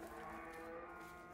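A cow in the video game A Way Out lets out a single sustained, close moo, heard alone without talk.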